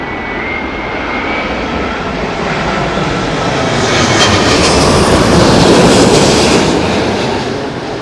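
A loud, steady roar of a Boeing 777-9 engine with chevron-scalloped cowls at London Heathrow in strong winds, with a thin whistling tone rising through it, swelling slightly before easing off.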